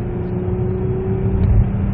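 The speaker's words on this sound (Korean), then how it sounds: "배기음 같은 게 들리죠" A Samsung SM7 car engine hums and drones with a low exhaust rumble, rising slightly as the vehicle accelerates, steady and close.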